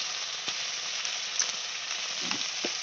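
Tomatoes and turmeric fry in a hot pan with a dense, continuous sizzle, close and fairly loud, marked by faint stirring taps. No one speaks.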